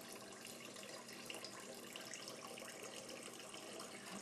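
Used water runs steadily from a home-brewing wort chiller, a constant broadband rush like a tap left open, moderately loud and unbroken, with no voices.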